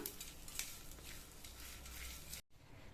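A spoon stirs boiled rice-flour balls through a tempering in a pan, coating them, with faint scraping and soft sizzle for a couple of seconds before the sound cuts off abruptly near the end; quiet overall.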